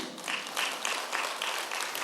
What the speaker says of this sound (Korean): 그러면 여러분 아멘도 하고 박수도 좀 쳐야 되지 않아요?